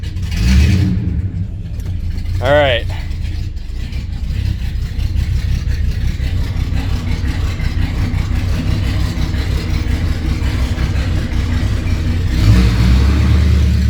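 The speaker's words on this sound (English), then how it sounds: "When I got the car, it was straight piped." Straight-piped car exhaust rumbling loudly and steadily up close, with a low throaty drone that swells near the start and end, a brief word spoken early on.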